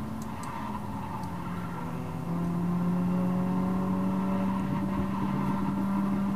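A Volvo race car engine in Volvo The Game drones steadily while racing, a smooth synthetic hum that climbs in pitch and gets louder partway through, alone without talk.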